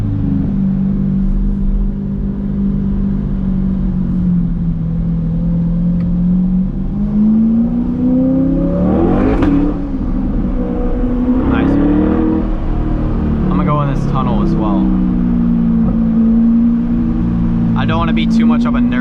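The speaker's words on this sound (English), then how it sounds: "Now, we're gonna take a little break and do a pull here in first gear." A straight-piped C8 Corvette pulls hard in first gear on a night drive in Miami, its engine droning loud and close with rising revs and a brief crackle, while someone talks over it.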